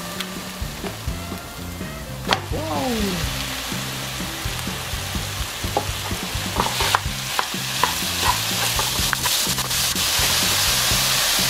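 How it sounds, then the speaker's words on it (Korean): Minced pork stir-frying in a hot pan for a Thai-style basil pork rice dish, a steady close sizzle with spatula scrapes and stirring clatter running throughout, no voices. "향이 살살 올라오면 다진 돼지고기를 넣어줄게요."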